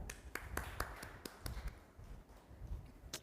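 Sparse claps from a small workshop audience, a handful of crisp, separate hand claps in the first second and a half, then quieter room noise and one last clap near the end.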